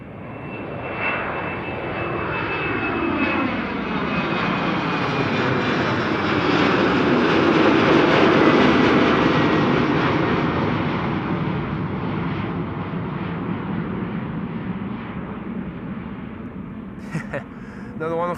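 A jet airliner climbs out from Amsterdam Schiphol, already high overhead, its broad engine roar swelling gradually to a peak mid-pass and slowly fading, with a whining tone sliding downward; a voice is heard faintly beneath it.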